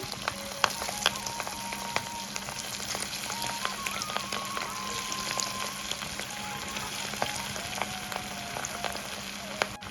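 Fish roe chops fry in hot oil in a wok, giving a steady, close sizzle with crackling pops and occasional spatter throughout, and no voices.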